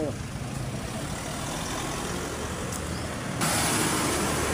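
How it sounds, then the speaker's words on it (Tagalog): Cars and trucks roll along Maharlika Highway near San Vicente, Gumaca, a continuous engine rumble and tire noise from passing vehicles that swells louder near the end as one draws close, with someone talking over it. "dire-diretso na daloy ng mga sasakyan"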